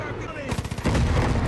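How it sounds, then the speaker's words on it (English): Enemy machine gun fire from an ATV in the video game Far Cry 5: a quick rattle of rapid shots, then a heavier sustained burst of gunfire and rumble. "maybe don't attack the machine gun guy on an ATV."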